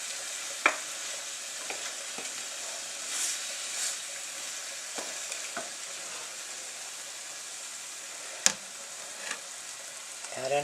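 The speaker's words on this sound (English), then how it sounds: "Let's stir this in." Spaghetti sauce stirred in a hot pan, with a soft continuous sizzle and occasional sharp scrapes and taps of the utensil against the pan, close and alone.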